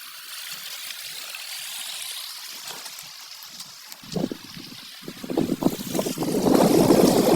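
Water flows through an irrigation channel on a chickpea farm plot. A soft, steady rush grows into louder, choppy gurgling and splashing near the end, with no one speaking.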